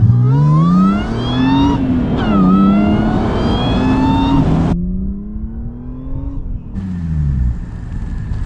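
A supercharged Audi S4 engine revs hard and loud, pitch climbing through the gears with a whining supercharger, brief drops at each shift, then a final rising pull.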